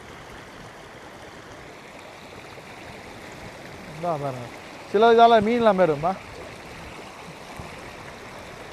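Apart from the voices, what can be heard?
flood water flowing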